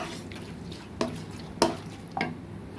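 Chicken for restaurant-style chicken fried rice fries quietly in a pan. Three distinct spatula knocks or stirs land against the cookware over a soft, low sizzle.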